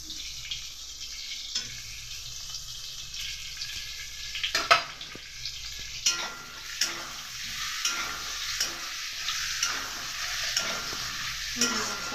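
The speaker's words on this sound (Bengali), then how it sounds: "চলুন এটা ভাজা হতে থাক। এবারে দেবো টমেটো কুচি।" Eggplant and onions fry in a pan as chopped tomato goes in, the close, continuous sizzle punctuated by repeated spatula scrapes and taps while the mixture is stirred.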